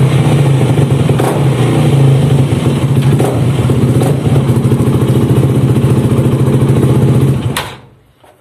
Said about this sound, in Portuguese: Eu até vou ligar a moto aqui, só um segundinho.